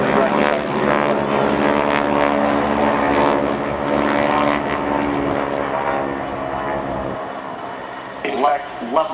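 Vintage propeller aircraft at an air show, a loud sustained droning engine roar with strong harmonic hum that holds steady, then cuts out near the end as a voice is heard talking.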